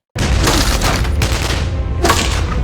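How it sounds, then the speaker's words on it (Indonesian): Dense, loud bursts of gunfire rattle continuously, with a sharper volley standing out near the end; no voices are heard. "Tapi Dembe kesulitan karena pihak Solomon terus menghujani dengan tembakan."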